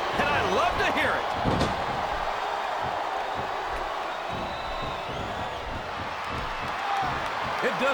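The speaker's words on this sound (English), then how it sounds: "This capacity crowd is making their opinions known tonight." An arena crowd in the WWE SmackDown vs. Raw 2007 video game, during an Edge versus Triple H Last Man Standing match, keeps up a continuous roar under commentary voices, with a few sharp slams and thuds.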